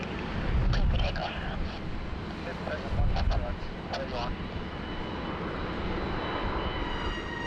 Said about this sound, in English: Clear for takeoff.